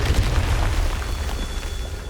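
Confringo, a fire spell in Hogwarts Legacy, erupts as a heavy, sustained booming blast with a deep low rumble and crackling spread, loud and close, with no voices over it.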